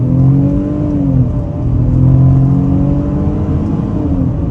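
A 2023 Ford Bronco Sport Big Bend accelerating hard in sport mode, its engine droning loudly from the cabin with rising revs, a shift, then climbing again.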